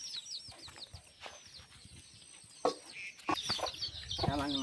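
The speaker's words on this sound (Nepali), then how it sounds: "यस्तो छ कुखुरा" Chickens cluck at a village home in Nepal, with a run of short, repeated clucks and calls near the mic, growing louder and busier toward the end.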